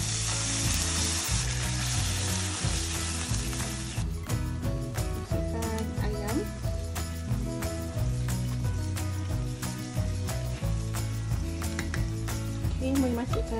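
Spice paste sautés in hot oil in a pan for a Malay ayam masak kerutuk, a steady close crackle and sizzle with repeated scraping and clicking from stirring, no voices.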